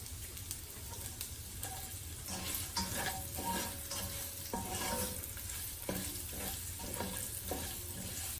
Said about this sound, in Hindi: और अब वेजिटेबल को करेंगे फ्राई। सबसे पहले कैरेट को डालेंगे